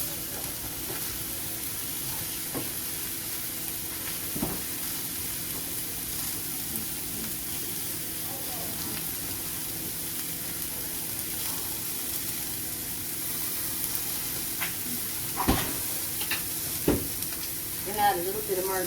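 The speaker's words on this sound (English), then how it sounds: "frying the mushrooms, it doesn't take long" Mushrooms sizzle steadily in a hot frying pan for a meatloaf, a continuous close frying hiss with occasional stirring scrapes and clinks near the end.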